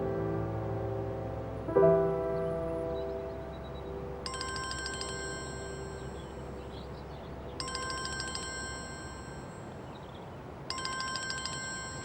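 A telephone rings in repeated electronic bursts, three rings spaced a few seconds apart, over a faint low background hum.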